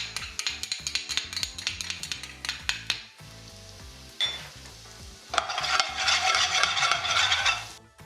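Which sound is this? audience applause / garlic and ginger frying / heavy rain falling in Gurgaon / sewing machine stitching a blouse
garlic and ginger frying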